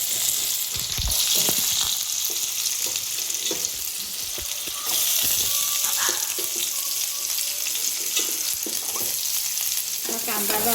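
Chopped onion sizzles and crackles steadily in an oily pan while being stirred for kalwa (clam) masala, with occasional scrapes and clinks of the spoon against the pan throughout.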